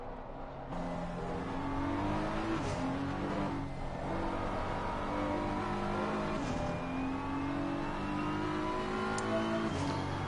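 Race car engines roar and rev steadily in Assetto Corsa Competizione at Paul Ricard, loud and continuous with rising and falling pitch as cars accelerate and shift, with no talking.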